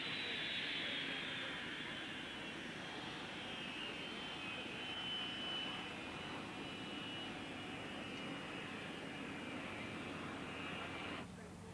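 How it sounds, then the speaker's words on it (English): A BAC Strikemaster, a second-generation jet trainer, performs an aerobatic demonstration at a New Zealand airshow. Its jet engine roars steadily and loudly overhead for several seconds, with a faint drifting whine, before the sound cuts off abruptly. "the Strike Master, the second generation jet trainer which the Aeromacchi replaces"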